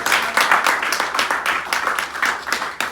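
A church congregation at a Sunday service claps together in a dense, steady patter of applause, moderately loud and sustained for a few seconds.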